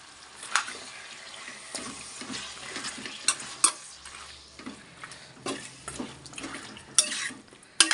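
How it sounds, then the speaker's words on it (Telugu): Chicken frying with masala in a pan and stirred steadily, with a soft continuous sizzle and repeated scraping, clicking strokes of the spoon against the pan, close and fairly quiet. "బాగా మసాలాకి మొక్క పట్టిందాక తిప్పుకున్నాము"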